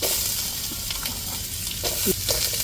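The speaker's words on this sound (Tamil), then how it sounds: "நெய் ஏற்கனவே ஆல்ரெடி ஊற்றியாச்சு இப்போ கரண்டி வச்சு நல்லா வதக்கி விட்டுக்குருவோம்" Pieces frying in ghee while being stirred with a ladle for a Diwali sweet snack, a soft continuous sizzle with faint scraping strokes, close and fairly quiet.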